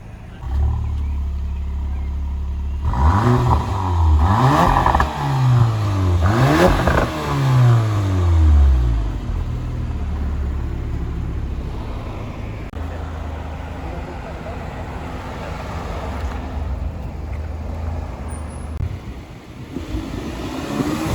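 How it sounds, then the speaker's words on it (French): A 2020 Porsche Macan with sport exhaust revs hard several times in quick succession, close and loud, each rise and fall of engine pitch clearly audible before settling into a steady idle. "Je vais vous faire écouter la sonorité de la voiture."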